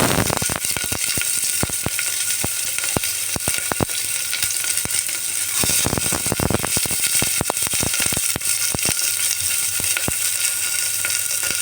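Onion and whole garam masala frying in hot oil for rajma puri, a steady loud sizzle and crackle throughout with frequent sharp pops and spits, close up and with no voices.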